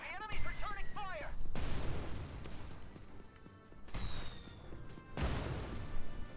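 Enemy gunfire in the tactical war game Valkyria Chronicles 4: bursts of booming, crashing shots come in several loud waves, with a short musical or voice cue at the start and gaps of quieter rumble between volleys.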